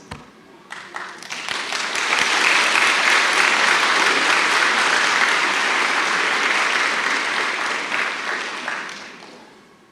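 An audience claps at a dawn prayer gathering, the applause swelling quickly into a dense, loud roar that holds steady for several seconds before tapering off.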